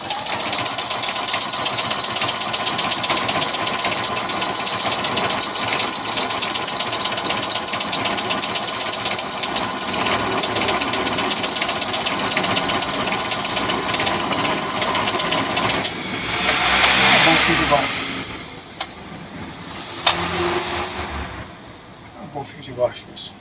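An electronic Singer sewing machine embroiders letters, its needle running in a fast, steady whirring chatter for about sixteen seconds before slowing and stopping, followed by a few faint clicks and handling sounds.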